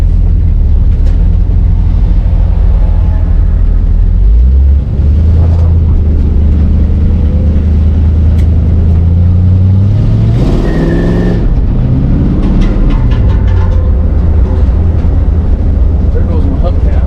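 A 1966 Ford Thunderbird, revived after sitting for years, drives along a road with a loud, steady low engine drone and a brief swell of revs partway through.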